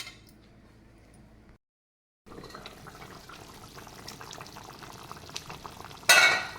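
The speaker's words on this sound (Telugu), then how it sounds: "పులుసు బాగా ఉడుకుతున్నప్పుడు" Crab curry (pithala pulusu) simmering in a pot gives a steady, soft bubbling hiss with a brief gap of silence, then a louder sharp burst near the end.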